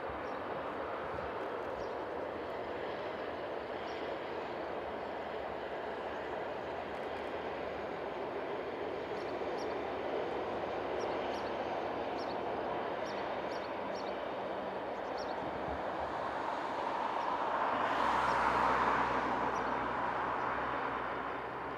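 BLS locomotive 167 hauling a passenger service on the Interlaken to Zweisimmen line, a steady rolling rumble of wheels on rails that swells and brightens near the end as the train draws closest.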